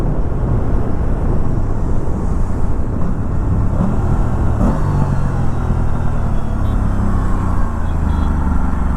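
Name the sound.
Aprilia RS 457 motorcycle engine revving while riding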